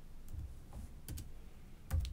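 Computer keyboard typing, a few soft, quiet keystroke clusters spaced irregularly with a slightly louder burst near the end.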